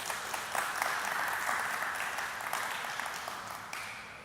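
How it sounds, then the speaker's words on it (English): A conference audience applauds the organizers, a steady dense wash of clapping from many hands that holds throughout and tapers slightly toward the end. "I'd like us all to give a big round of applause for the organizers of the conference"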